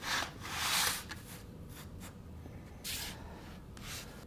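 A knife cutting through a vinyl flooring seam, giving soft scraping strokes in two main bursts with quieter rasps between, close and faint.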